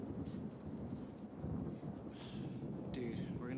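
Rain falling with a low rumble of thunder outdoors, a steady wash of rain and a deep continuous roll, faint and distant, with brief voices over it.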